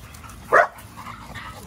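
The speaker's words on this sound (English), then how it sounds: "Who you barking at?" A single short, loud American Bully dog bark close by, followed by quiet background.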